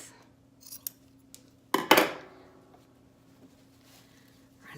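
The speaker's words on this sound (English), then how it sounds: "And now I'll just trim off the excess." Scissors trimming excess fabric from a handmade dog snood, a few faint snips followed by a sharper, louder double cut, close in an otherwise quiet room.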